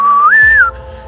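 A person whistles a single clear note that slides upward, holds briefly, then drops, imitating an animal call heard at dawn; close and loud with nothing else around it.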